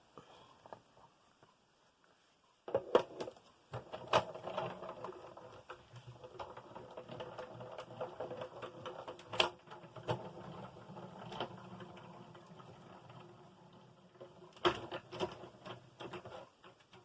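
A domestic sewing machine stitching through a fabric tag. Its quiet mechanical whir and needle patter start after a short pause and run steadily, with a few sharper clicks and knocks.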